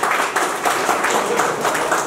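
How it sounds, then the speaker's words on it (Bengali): Applause from the audience at a Fincop Welfare Foundation recognition ceremony, an even, sustained patter of many hands clapping at moderate volume for about two seconds. "এইটুকু হাততালি।"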